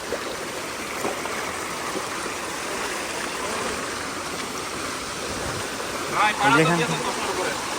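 A cold mountain stream and waterfall near Tanguar Haor rushing steadily as a broad hiss of flowing water, with a brief burst of nearby voices near the end.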